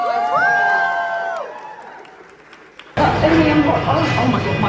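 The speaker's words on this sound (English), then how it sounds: "A big round of applause for them, guys." Audience cheering and whooping after an evening screening with guests, a loud crowd burst arriving suddenly after quieter sounds and continuing to the end.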